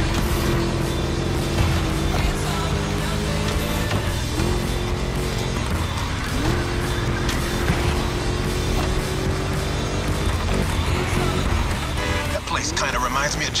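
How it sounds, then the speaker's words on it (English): A V8 car engine in The Crew Motorfest racing game drones loud and steady under a driver's running chatter, with brief rises and shifts as it revs through a lap. "Just listen to that V8, like a chunky, down-tuned guitar riff"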